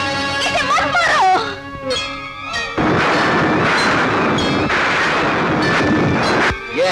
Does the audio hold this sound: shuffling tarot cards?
no